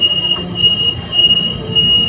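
Rumbling interior of an LRT Line 1 light rail train in motion, with a steady high whine and faint wheel squeal, loud and close.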